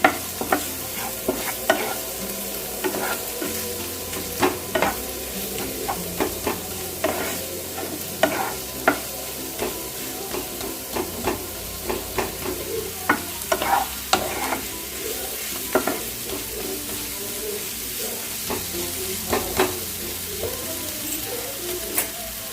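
A spoon stirs a pinch of turmeric through palak paneer frying in a pan, producing steady sizzling and frying broken by many sharp scraping knocks of the spoon against the pan, close and continuous, with no voices.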